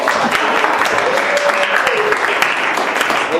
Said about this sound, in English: Everybody give Alita a big round of applause.